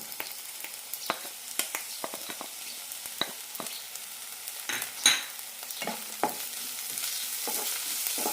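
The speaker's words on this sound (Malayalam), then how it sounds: "പച്ചമുളകും പോകുന്നവരെ വഴറ്റാം ലോ ഫ്ലെയിമിലിട്ട് രണ്ട് മിനിറ്റ് നന്നായി വഴറ്റാം" Onion, ginger and green chilli sauté in a pan over low flame, with scattered sharp clicks of a spoon stirring over a faint, steady sizzle and no voices.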